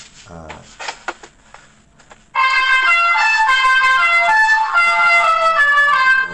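A musical car air horn blares a loud, bright La Cucaracha melody of repeated notes, preceded by a few short clunks and brief sounds.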